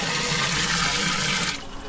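Water gushes loudly and continuously into a garden wishing well, a close, rushing, splashing flow that eases slightly near the end.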